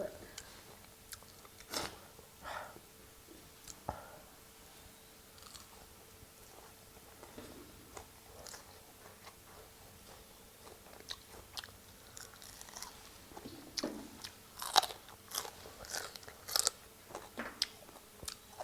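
Someone eats fish close up, with soft, irregular crunching bites and chewing scattered through the stretch, growing busier toward the end, with faint speech around it.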